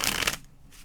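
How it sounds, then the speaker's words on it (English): A quick riffle of tarot cards being shuffled, a short crisp flutter lasting a fraction of a second before fading to quiet. "One more shuffle"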